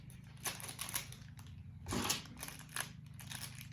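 Scissors snip through plastic toy packaging during an unboxing, giving several sharp, close crunchy cuts spaced about half a second apart, with one louder cut in the middle, against quiet background.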